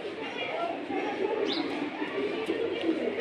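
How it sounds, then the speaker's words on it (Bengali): Pigeons in breeding condition coo softly and repeatedly at close range, low throaty calls over a steady background hum with occasional higher chirps and voices nearby. "পুরো ফুললি ব্রিডিং মুডে আছে কবুতরগুলা"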